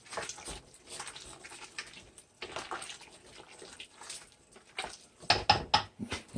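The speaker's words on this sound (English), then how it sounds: "now we're going to give it a little bit of a stir" Chitlins being stirred in a cooking pot, with wet sloshing and scraping in soft, uneven strokes, then a run of louder clinking spoon-on-pot knocks near the end, no voices.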